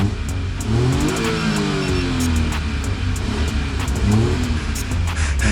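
A Suzuki DA17V van with the R06A VVT 12-valve engine revs repeatedly close by, its pitch rising and falling in a couple of throttle blips over a steady idle.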